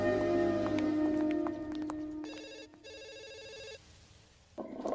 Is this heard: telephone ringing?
yes